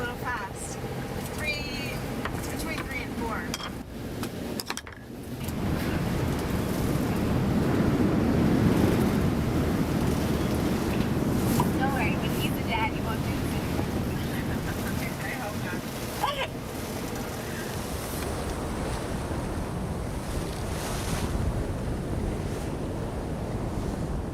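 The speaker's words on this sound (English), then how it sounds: "with waves crashing and the storm pounding us relentlessly" Ocean waves crash against a sailboat at sea during a storm, surging among heavy wind buffeting the microphone, with a louder swell building midway, and a voice speaks over it at times.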